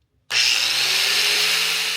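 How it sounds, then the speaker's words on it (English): A power grinder powered by a BLUETTI AC70 portable power station starts abruptly and then runs at a steady, loud, high-pitched whine with no pauses, close by and with no voices. "First, I tested a grinder."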